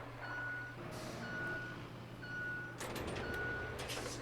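Steady electronic reversing beeps from a truck in the video game Roadcraft repeat in an even rhythm over a constant engine drone, with a hiss like an air release near the end.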